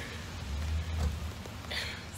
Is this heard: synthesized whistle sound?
no